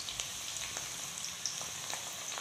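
Onions frying with dry chili and bay leaf, stirred in a pan for a paneer and potato dish; a steady, fairly quiet sizzle with faint scattered stirring ticks, no voices.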